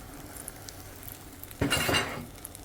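Eggs being stirred in hot oil in a pan for Guyanese-style beef and egg fried rice, a brief scraping and clinking of a utensil lasting about half a second over a quiet background.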